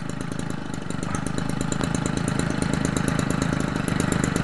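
A McCulloch Mac 32cc gas engine converted for an RC racer runs steadily nearby with a fast, even two-stroke putter throughout and no voices.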